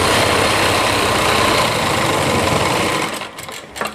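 A sewing machine stitches together the flared panels of a Rajputi heavy-work lehenga, a loud close continuous whirr for about three seconds that then slows and stops with a few soft clicks.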